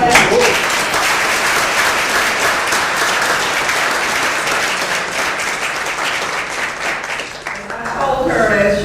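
Sustained audience applause fills a banquet hall, dense and loud from start to finish, with a voice rising over the clapping near the end.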